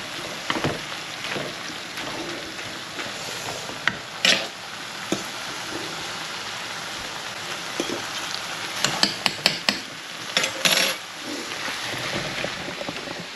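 Spaghetti bolognese sauce being folded in a pan, with soft scraping and wet stirring, a few sharper clicks of a utensil against the pan, and quiet background hiss throughout.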